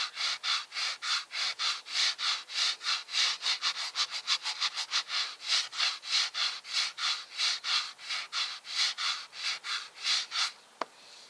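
Rapid rhythmic back-and-forth rasping of a sanding sponge on a wooden bathroom cabinet drawer face, steady strokes continuing for several seconds, close up with no talking.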